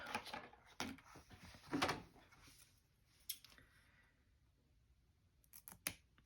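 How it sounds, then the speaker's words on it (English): Scissors snipping the edge of a paper tab for a 2023 Hobonichi Cousin Avec planner, a few crisp close cuts clustered early, then quiet handling and two more faint snips near the end. "I'm going to cut the edge again."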